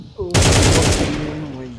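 Counter-Strike 2 gunfire on the Inferno map: a sudden, loud automatic burst that rattles on for over a second, then fades into a ringing tail.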